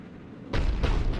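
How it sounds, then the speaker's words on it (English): Cerberus's cannon in Mass Effect 3 fires on Tuchanka, sounding as two heavy booms in quick succession after a quiet moment. "Looks like Cerberus got that cannon operational, Commander."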